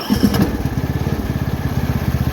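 A Troy-Bilt riding lawn mower engine catches and settles into a steady, loud, rhythmic chugging run close by, after a brief burst of cranking at the start; no one talks over it.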